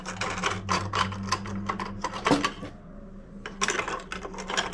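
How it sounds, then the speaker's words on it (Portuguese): A double-eye transfer tool moves stitches from the front bed back onto a knitting machine, making rapid clicking and clacking metal taps with a brief pause and then more clatter. The whole sequence sounds close and fairly quiet. "E transporto da frontura para a máquina todos os pontos"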